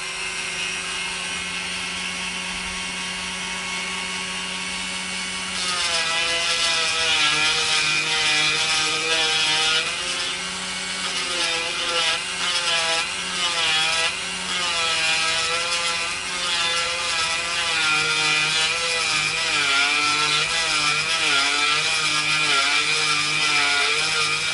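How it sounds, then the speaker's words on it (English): A power tool whines steadily, starting quieter and then rising into a louder, wavering buzz of a palm sander working on olive wood, continuous throughout. "get the palm sander on it"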